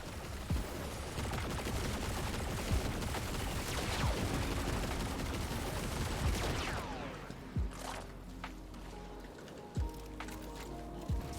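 A light machine gun in a shooter game rattles off a long, dense burst of rapid gunfire that cuts off about two-thirds through, leaving a few scattered shots and clatter in a quieter tail.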